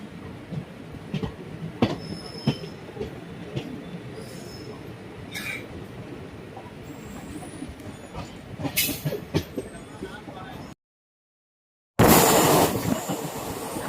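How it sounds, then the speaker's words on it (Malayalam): Punalur–Madurai Express pulling out of Paravur railway station at night, heard from inside a coach as a steady rumble with wheel clatter and occasional squeals, ending in a loud rush after a brief gap. "ഒരു മിനിറ്റത്തെ സ്റ്റോപ്പിന് ശേഷം പരവൂർ റെയിൽവേ സ്റ്റേഷനിൽ നിന്ന് ട്രെയിൻ എടുത്തിട്ടുണ്ട്"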